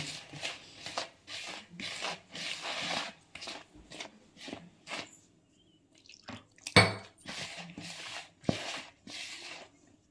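Squishy, sticky slapping and pressing sounds of poori dough kneaded by hand repeat in a steady rhythm, close up, with a sharp clatter partway through.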